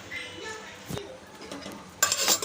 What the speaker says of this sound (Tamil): தாளித்தது வெள்ளத்தோடு நல்லா மிக்ஸ் பண்ணி விட்டுக்கோங்க